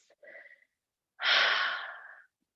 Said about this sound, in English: Big, big breaths here. Open mouth breaths.